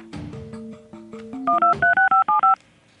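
A telephone is dialed, with a run of about ten quick DTMF tone beeps, clear and close, preceded by a few lower tones.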